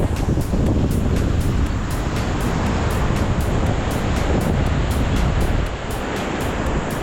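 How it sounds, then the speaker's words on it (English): Strong gusting wind buffeting the microphone beside a mountain river near a bridge on the Manaslu Circuit trek in Nepal, a loud, roaring, continuous rush that eases slightly toward the end, with no voices. "it's very windy. It's really windy."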